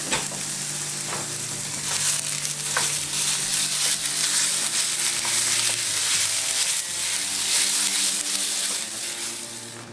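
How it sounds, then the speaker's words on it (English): Venison sizzles loudly in a hot pan, a dense close crackle and hiss with stirring scrapes throughout, no voices. "with our pan nice and hot, we're going to go ahead and add in our venison"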